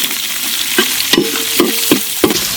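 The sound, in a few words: big onions sizzling and stirred in oil for duck curry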